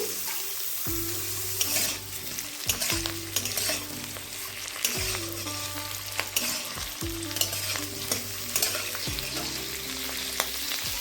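Capsicum, onion and diced tomato stir-frying in a pan, a steady loud sizzle broken every couple of seconds by scraping spatula strokes and clatter against the metal, close and continuous with no talking.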